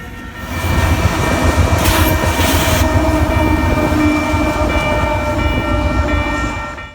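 Loud, steady rumble and clatter of a heavy Union Pacific freight train rolling past close by, rear AC44C6M and ET44AC locomotives, with a brief horn-like tone early on, fading at the end.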